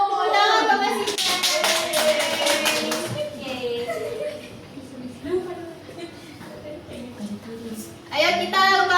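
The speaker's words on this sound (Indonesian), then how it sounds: "Tepuk tangan buat Mas Sita" Children clapping hands in a second-grade primary school maths classroom, a rapid rhythmic burst of claps near the start and again at the end, with a teacher and kids talking in between.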